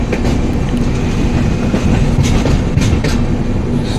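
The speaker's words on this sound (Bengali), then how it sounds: "ট্রেন ঠিক রাইট টাইমে চলে এসছে।" A train rolls steadily along the rails on its approach into Puri, with a continuous loud rumble and faint rhythmic clatter of wheels, close and sustained throughout with no talking.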